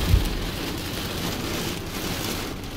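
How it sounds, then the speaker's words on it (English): Steady, dense rain blows sideways in stormy beach weather, a continuous broadband hiss close to the microphone with no talking. "The rain just blowing sideways,"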